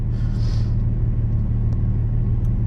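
A Nissan 350Z on a sprint run at Snetterton circuit: a steady, loud, low engine drone heard from inside the car, holding an even pitch throughout with no talk.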